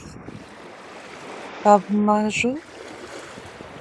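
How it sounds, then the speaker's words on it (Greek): Small sea waves wash against a beach shore in a soft, continuous rushing hiss, with someone briefly speaking over the steady surf. "Η θάλασσα έχει λίγα κυματάκια. Είναι κυματώδης."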